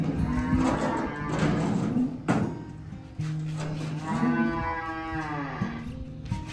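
A cow moos on a farm in several long, loud, drawn-out lows, near the listener, with some rustling and thumps around them and no talking.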